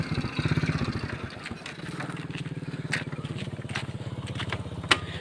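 A motorcycle engine idles nearby with a steady, rapid low putter and a few faint clicks and scrapes, with no talk over it.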